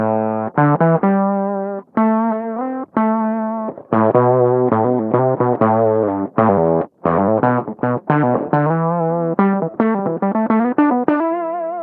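Electric guitar riff through an MXR Poly Blue Octave pedal in mono mode, octave up, thick and slightly warbly with a synthetic, ring-modulator-like edge; loud, choppy phrases with brief gaps.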